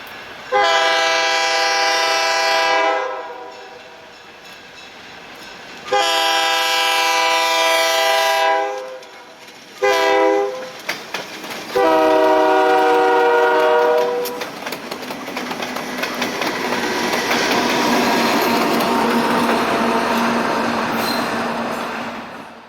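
A Maryland Midland freight train sounds its horn in several long blasts on steep grades, then the rumble and clatter of cars rolling past grows and fills the scene.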